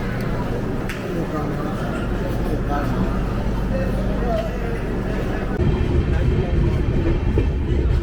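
Kumbha Express coach noise at Mokama Junction: a steady rumble and low mechanical hum inside the train, with faint clanks and a slight rise in level toward the end.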